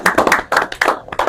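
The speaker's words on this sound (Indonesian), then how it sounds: "Tepuk tangan dulu untuk kita semua." A small group claps at a school flag-raising troop event, giving a few loud, close bursts of clapping in a quick uneven rhythm with short gaps between them.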